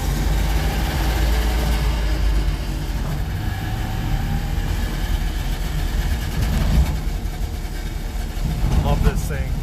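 Two-stroke engine on a Sunday drive with smoke, a loud continuous rumbling drone with a steady low-pitched throb that rises slightly near the end, heard up close with some talk over it.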